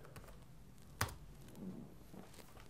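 A computer keyboard is typed on while logging into a Facebook account, soft scattered key taps with one sharper click, quiet and close, no talking.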